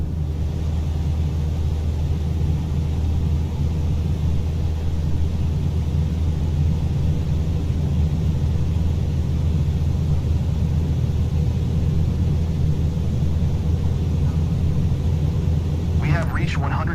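Steady, loud engine drone of a light aircraft at full takeoff power on the runway in Microsoft Flight Simulator 2024, a constant broadband rumble with a brief higher rattle near the end.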